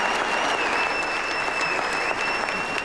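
An arena audience at a WMC Muay Thai world super light heavyweight title fight in Germany applauds loudly and continuously, a thick, even roar of clapping throughout.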